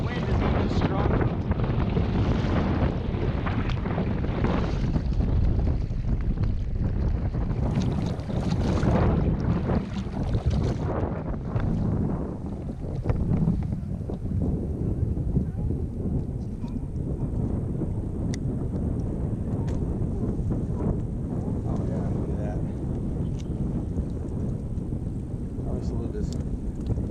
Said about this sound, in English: You probably don't need me to tell you that the wind is even stronger.